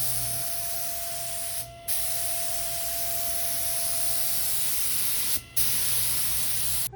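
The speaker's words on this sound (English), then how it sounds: "Then I'm going to go over it with a tack cloth, and then I'll spray my Transtar DTM primer." HVLP spray gun from Harbor Freight, run on a Husky 60-gallon 220 air compressor, spraying Transtar DTM primer on a truck at home: a steady loud hiss with two brief pauses as the trigger is released.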